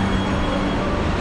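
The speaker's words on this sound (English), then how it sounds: "About to get on the train or the subway" Subway train in Beijing, a loud, steady rumble of a running train, close and continuous with no talk.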